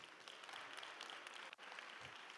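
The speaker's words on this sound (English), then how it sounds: "I'm sure you can clap for yourself for that." Children's parliament members in a sector session clap for themselves, a soft, distant, sustained patter of many hands with a brief dip near the end.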